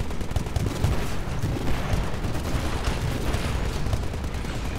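Gunfire from the video game Titanfall keeps up as a continuous dense rumble of shots and blasts for several seconds, loud and without a break, with no clear speech.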